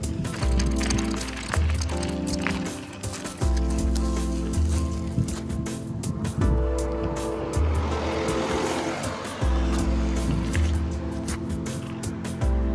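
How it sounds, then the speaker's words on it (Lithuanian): A car passes along the road near someone riding a bicycle, its engine and tyre noise swelling and fading in repeated waves over a rough, steady rush of wind and road sound. "atvažiuoja mašiną reikia pasitraukti"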